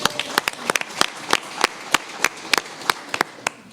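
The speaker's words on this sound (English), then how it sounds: "Can we give her a round of applause?" At a Daly City council candidate forum, a small audience gives the evening's MC a round of applause, sparse, distinct individual claps ringing out in an uneven rhythm rather than a dense wash.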